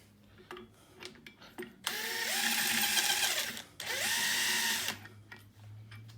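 An impact wrench backs out the primary clutch bolt on a 2020 XCR snowmobile in two long, loud, whirring bursts with rising and falling pitch, separated by a short pause and framed by quiet clicks and handling noise.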